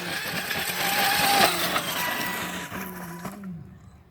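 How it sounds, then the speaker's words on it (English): A Traxxas Unlimited Desert Racer RC car at full throttle, a loud sustained high-pitched motor whine with shifting pitch that rises then cuts off near the end. "Let me see if I can get a full throttle run."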